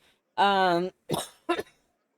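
A person coughs three times: a long, harsh, voiced cough followed by two shorter, rougher bursts, close and loud against silence.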